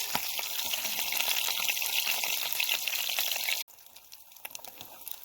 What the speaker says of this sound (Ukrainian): Лише послухайте, як шкварчить.